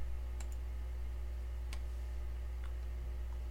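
A few faint, isolated computer mouse clicks tick over a steady low hum on a quiet desk, spaced irregularly with no talk.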